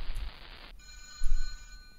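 A telephone rings briefly in a horror video game, a short ringing tone alone and fairly clear, then a faint electronic buzz.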